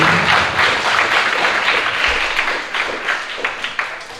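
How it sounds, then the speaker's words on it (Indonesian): An audience claps steadily at a youth reproductive-health outreach session, with dense, even applause that thins into scattered separate claps near the end. "Baik, tepuk tangan."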